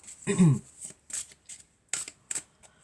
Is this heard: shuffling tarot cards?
yes